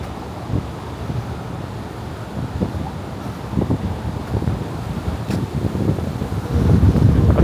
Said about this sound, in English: Okay, the wind's definitely picked up a bit more.